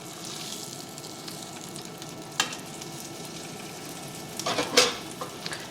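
Chicken cordon bleu browns in a skillet on lowered heat, giving a steady close sizzle with a few sharp clinks and brief louder spatters near the end.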